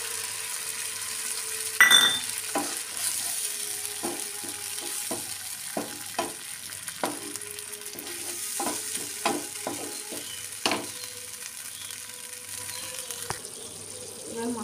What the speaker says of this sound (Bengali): এবার চালমগজ, পোস্ত আর কাজুর বাটাটা দিয়ে দেবো।